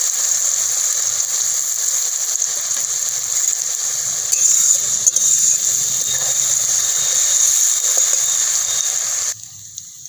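Potato chips frying in oil make a loud, continuous hiss that holds steady for several seconds, then cuts off abruptly near the end.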